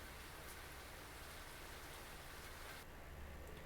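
Steady rainfall from the game Doki Doki Salvation Remake, a dense even hiss of drops on surfaces that holds constant throughout, with no voices.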